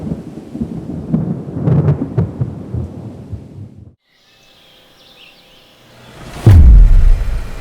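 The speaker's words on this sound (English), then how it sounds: "Look at all them multiple thunderstorms." Thunder from afternoon thunderstorms over a building site rumbles for several seconds, then after a hush a sharp, loud crack breaks into a deep roll, with light rain beneath.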